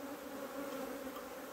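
Honey bees buzz steadily around beehives, a dense continuous drone that is close and fairly loud throughout.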